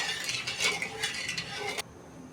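A spoon stirs sugar in a pot to dissolve it for syrup, giving quick metallic scraping and clinking strokes up close that stop abruptly near the end.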